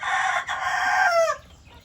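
A single drawn-out rooster crow rings out clearly, rising and then trailing off, with quiet background afterward.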